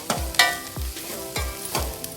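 Chilli and turmeric are stirred and sautéed in a pan, with a faint sizzle under four rhythmic scraping strokes of a spoon against the cookware, evenly spaced and close.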